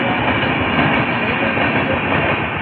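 A long train rolls past a railway crossing gate, a loud, close and continuous rumble with rhythmic clattering wheels across the whole stretch.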